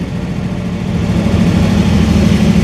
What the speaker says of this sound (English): This car sounds amazing and it shifts so smooth.